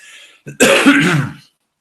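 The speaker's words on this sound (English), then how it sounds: "a little cough here" A single throat clearing followed by a short cough from a man during a live hypnosis session, close and fairly loud, lasting about a second before silence returns.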